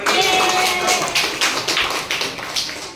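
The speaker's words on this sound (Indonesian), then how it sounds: "Ya, tepuk tangan semuanya" Classroom applause from a group of students after a presentation, a steady patter of many hands clapping at close range with no talk over it.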